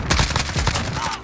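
A maxed-out Galil assault rifle in Call of Duty Modern Warfare fires a rapid burst of about six or seven close, loud shots in quick succession, with no talk over it.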